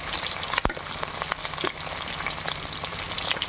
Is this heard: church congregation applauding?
no